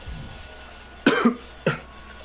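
Two quick coughs from a live wrestling game commentator, a double burst followed by a single shorter one, close to the mic against a quiet background.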